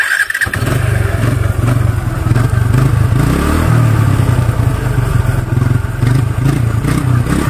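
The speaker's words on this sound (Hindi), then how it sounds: "यहाँ पर जो इंजन की आवाज़ मुझे काफ़ी स्मूथ लग रही है" A TVS Apache 180 motorcycle engine starts and idles steadily nearby, a loud, even mechanical putter that briefly revs partway through.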